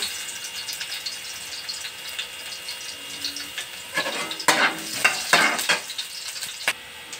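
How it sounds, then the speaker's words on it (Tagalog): Onion, garlic, tomato and bitter gourd sizzle in a hot pan, a steady fry punctuated by louder bursts of stirring and spatula scrapes in the middle stretch, with no talk. "gisa na natin yung ating mga ricado"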